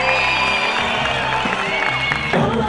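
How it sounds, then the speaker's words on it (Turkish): A large crowd at a film gala premiere in Istanbul roars, cheering and clapping loudly and continuously, with shouts and whoops rising over a dense wash of noise and amplified sound. "Onları sahneye çağırmadan önce bir çıldırdı sıkı alkışlayabilir miyim İstanbul?"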